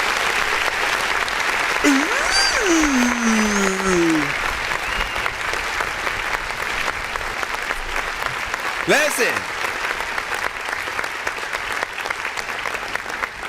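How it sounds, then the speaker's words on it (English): An audience claps continuously during a live music review show, a steady wash of applause that runs the whole time while voices speak over it. "Everybody clap and put your hands together."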